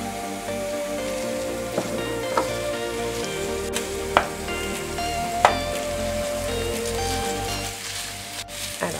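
Ground beef and translucent onions fry in a pan with a steady soft sizzle, broken now and then by faint clicks and taps of a spatula.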